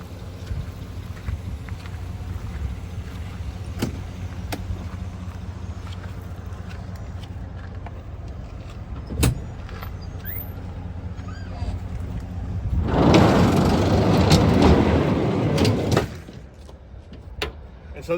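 A truck's camper shell is opened and its sliding cargo tray pulled out, giving a loud burst of rolling, rattling slide near the end after quieter knocks and handling, with faint wind outdoors.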